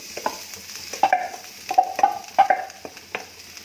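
Mashed potatoes being stirred into fried spices in a pan on low heat, a soft background sizzle with a rhythmic series of close scraping and squelching stirs, no voices.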